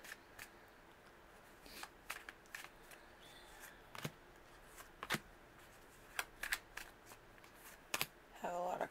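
Tarot cards shuffled by hand, soft irregular riffling and flicking clicks at close range, quiet, with a brief louder burst of shuffling near the end.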